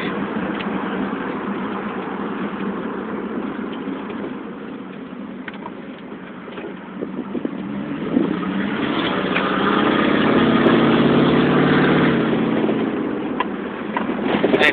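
A 1996 Jeep Grand Cherokee 4x4 V8 idles with a steady exhaust rumble, then gets more gas and swells into a louder, rising rev before settling, with no talking.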